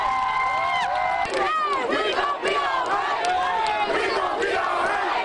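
Crowd of Black Lives Matter protesters cheering and whooping after a confrontation with Cleveland police, many loud overlapping shouts rising and falling continuously close by.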